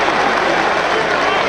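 Dense, steady roar of a large Australian football crowd at a 2000 Brisbane versus Carlton match, loudly appealing for a 50-metre penalty, broad and continuous without breaks.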